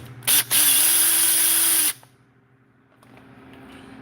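A small power drill whirs at high speed in a brief burst, then a longer sustained run, stopping abruptly and leaving faint handling noises.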